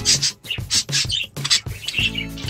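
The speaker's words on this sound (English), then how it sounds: "Very lovely little birds." Small finches in a backyard aviary chirp and squawk in quick, overlapping bursts, fairly close and loud, with a busy scratchy flutter between calls.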